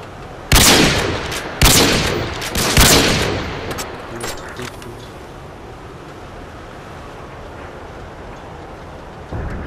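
Pistol shots in a first-person video game: three sharp, loud reports about a second apart, then a quieter stretch of scattered game noise and a faint final crack.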